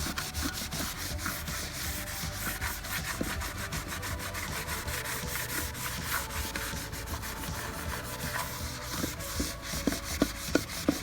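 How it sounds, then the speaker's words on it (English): Scotch-Brite pad scrubbing a car wheel rim near the edge and valve stem, a steady close abrasive rubbing that continues throughout with quick back-and-forth strokes, no talking. "The Scotch-Brite really get in those cracks and crevices"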